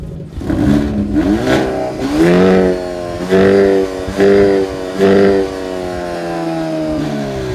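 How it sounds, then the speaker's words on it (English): Hyundai Elantra N exhaust set to Sport Plus mode, loud engine revving in repeated rising and falling bursts with crackles between, close and unaccompanied by talk. "Set to the most aggressive Sport Plus mode, this is the loudest tailpipe here by a mile."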